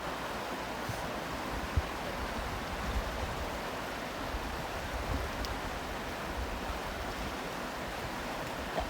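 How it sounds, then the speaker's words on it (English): A mountain river flows steadily in the background, a continuous broad rushing hiss of water with no voices and only tiny clicks breaking the even wash. "I like the sound of the river in the background."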